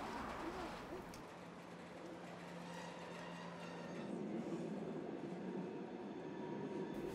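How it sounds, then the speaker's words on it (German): A train pulls into a railway station platform with a steady low rumble that swells gradually, heard at a moderate distance with faint birds in the background. "so sind wir wieder beim Bahnhof, wo gerade ein Zug einfährt"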